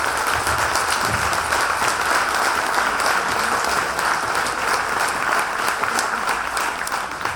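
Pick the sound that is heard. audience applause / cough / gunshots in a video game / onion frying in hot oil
audience applause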